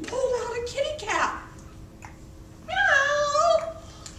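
A voice imitates a cat's meow with two drawn-out, wavering mewing calls, the second longer and higher, close and clear with a short pause between them.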